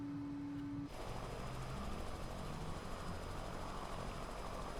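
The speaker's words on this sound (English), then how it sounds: "this is a very tricky helicopter to fly" A helicopter in a flight simulator video game drones with a dense, steady rotor and engine roar that fills the whole clip, loud and continuous with no voices over it.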